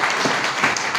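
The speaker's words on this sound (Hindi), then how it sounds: "इतने में ताली बजाएंगे तो मैं आगे चलूंगा।" Applause from the audience at a farmers' meeting, a dense, steady patter of many hands clapping together that lasts the full second without a break.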